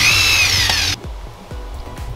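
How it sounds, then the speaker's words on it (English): A power drill whirs loudly for about a second during a backyard build of a pull-up bar with a galvanized steel pole, floor flanges and wood screws, then cuts off, leaving low knocking thumps. "Power drill."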